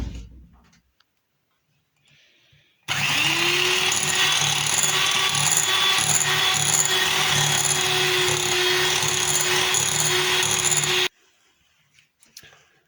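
An electric mixer whirs loudly and steadily for about eight seconds while sugar is blended into a cookie mixture, starting abruptly and cutting off just as suddenly, framed by near-silence.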